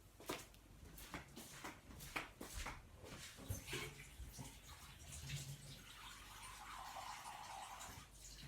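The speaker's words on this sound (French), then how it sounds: "Je vais rajouter un petit peu d'eau." Water pours from a tap into a fish tagine, a close, splashing and trickling flow with some clinks of the dish, strongest in the second half.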